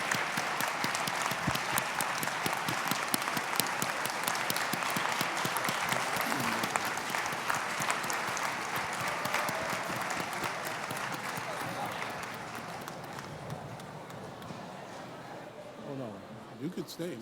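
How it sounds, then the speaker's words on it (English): A large audience applauds steadily at a university Founder's Day convocation, a dense sustained roar of clapping that slowly tapers off toward the end. "Please give them a round of applause."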